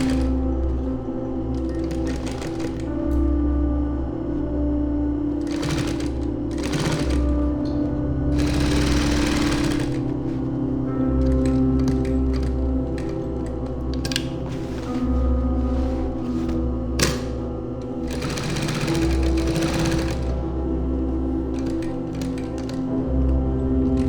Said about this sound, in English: Then we'll go back to the machine, top stitch these guys down